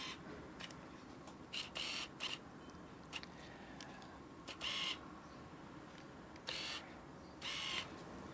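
A camera's autofocus hunting for its focus point, operated with a back-button focus control, giving short faint mechanical whirring bursts repeated several times at irregular intervals over a quiet background.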